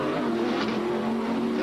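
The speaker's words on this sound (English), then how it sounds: "The Jaguar at speed." A Jaguar IMSA Camel GTP prototype racing at speed at the 1989 Del Mar street race: a loud, steady, high-revving engine roar that holds without a break and drowns out everything else.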